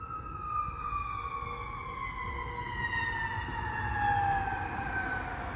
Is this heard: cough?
no